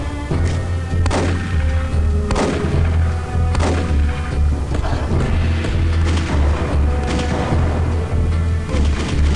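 Repeated heavy grenade explosions from the Arcanum video game, a series of loud booming blasts over a continuous low rumble, spaced a second or so apart with no talking.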